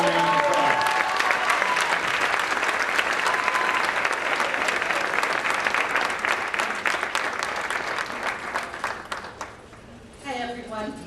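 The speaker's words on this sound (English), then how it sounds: "Please give him a round of applause." An awards-night audience breaks into sustained, dense applause for an award recipient, steady clapping that fills the room and then thins out and fades near the end as a voice begins to speak.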